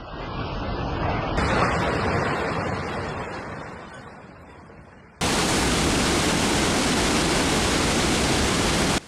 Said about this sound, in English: A dam had to release massive amounts of water to cope with record-breaking rainfall from Typhoon Trami